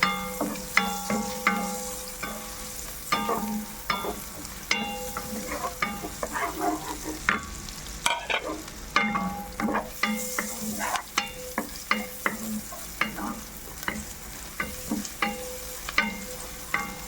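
Garlic and ginger sizzle in a hot pan while a utensil stirs and scrapes, giving steady frying hiss punctuated by repeated clinking taps throughout.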